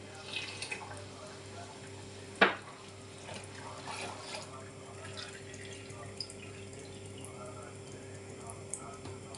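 Five litres of milk poured out in a faint, continuous liquid trickle, with one sharp knock early on and soft background noise.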